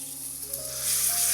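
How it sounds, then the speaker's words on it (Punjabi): Whole spices crackle and sizzle in hot oil as a tempering for dal palak, a bright steady hiss that grows slightly louder, with a faint hum underneath. "ਸਾਰੇ ਸਾਬਤ ਮਸਾਲਿਆਂ ਨੂੰ ਆਪਾਂ ਚੰਗੀ ਤਰ੍ਹਾਂ ਤੜਕਾ ਲੈਣਾ ਹੈ"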